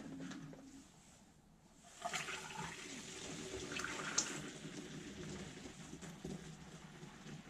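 Distilled water poured into a small bottle while mixing detailing chemicals, a quiet gurgling trickle that starts after a near-silent pause and runs steadily to the end, soft and close.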